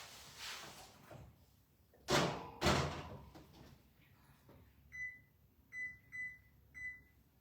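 Home oven door opened and shut with two sharp bangs as a pizza goes in, followed by a softer clunk and a series of electronic beeps from the oven controls in a quiet kitchen.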